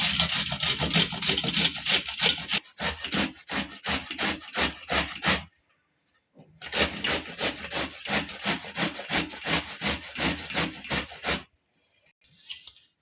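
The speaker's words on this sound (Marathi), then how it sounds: "आपण भोपळा किसून घेऊयात।" Bottle gourd being grated by hand for halwa: fast, rhythmic scraping strokes in two long bursts separated by a short pause, close and fairly loud, with a faint scrape at the end.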